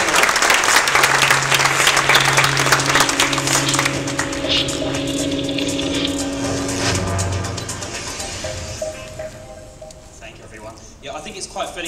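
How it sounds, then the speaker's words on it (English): Audience applause at an evening talks event, a dense steady wash of clapping that thins and fades toward the end, with voices and some tonal background sound mixed in. "So give him a warm round of applause."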